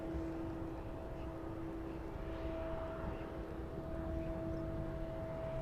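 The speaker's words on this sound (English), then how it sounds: "I can hear the engine on that one roaring towards us now." Spitfire aircraft on approach at an airport, a distant steady engine drone with a sustained tonal whine, faint and even throughout, with no voices.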